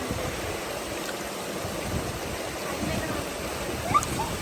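Cold water of a stream rushes steadily at the foot of the Kharrara waterfall in Al Baha, a continuous close wash of noise with a faint splash near the end.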